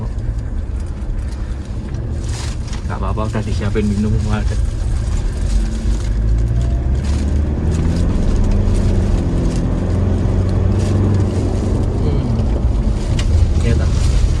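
A Mitsubishi Pajero with upgraded suspension on a test drive, its engine and road noise forming a loud, continuous low rumble from inside the cabin, with people talking over it.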